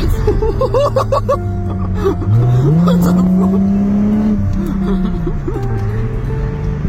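A Chrysler Crossfire with a 3.2-litre V6 accelerating hard from inside, the engine note climbing steadily in pitch, easing, then rising again through a gear change, with people talking and laughing over it.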